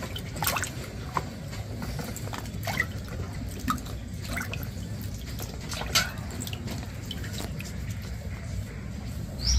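Peeled carrots are washed in water: soft splashes, drips and trickling with small clinks, close and moderate in volume, continuous throughout.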